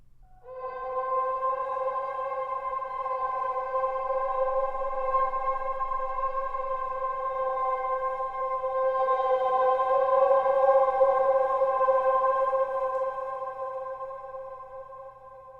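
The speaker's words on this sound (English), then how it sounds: "I love the Dilruba. It's a very weird instrument." A sampled dilruba plays a sustained, bowed-string drone with a nasal, reedy tone, holding steady and swelling slightly toward the end before fading.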